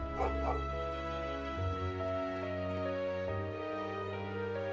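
Dog yips and whimpers in the video game Trails into Reverie, a few short high cries near the start over steady game music with tonal background, fairly close and clear.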